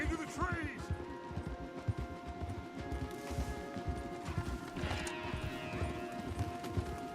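Horses trot along a wooded trail in Red Dead Redemption II, their hooves clip-clopping in a steady, close rhythm that runs throughout, layered over a tonal background bed with some voice-like sound.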